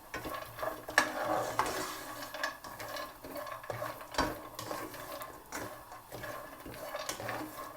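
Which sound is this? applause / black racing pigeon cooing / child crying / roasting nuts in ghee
roasting nuts in ghee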